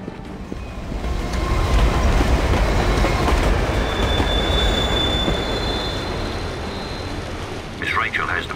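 A monorail train runs in the Batman Begins video game, a loud rumbling roll with squealing wheels and clacking that swells early and fades toward the end. Voices are heard in the scene.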